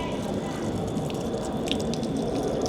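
Cold water pours continuously from a public fountain in Rome, a close, steady splashing and trickling rush with small drips, constant throughout.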